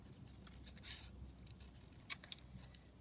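Small scissors snipping out a piece of a paper collage sheet for making tags, faint close crisp clips and rustles, with a couple of sharper snips near the middle.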